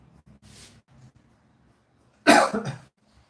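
One person gives a single sharp, loud cough close up, following a brief faint throat noise and an otherwise quiet room.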